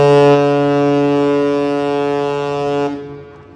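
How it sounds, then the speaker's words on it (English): A New York ferry horn blows one long, loud, steady, deep tone that holds for about three seconds, then cuts off and leaves a fading echo. "Ready for the horn, guys? My favorite part."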